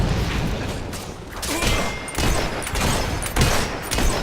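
Dense, loud gunfire and booming blasts from a battle in the video game Fable 3, continuous overlapping shots with heavier bursts recurring throughout.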